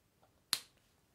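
One sharp, crisp finger snap rings out in a quiet room, a single brief crack that dies away quickly.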